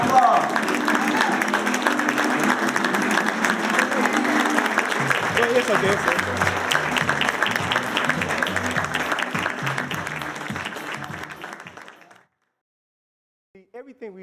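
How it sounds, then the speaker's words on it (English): An audience gives a speaker a big, loud round of applause with some cheering mixed in, sustained for about twelve seconds before stopping abruptly, followed by a brief spoken remark. "Give him a big round of applause."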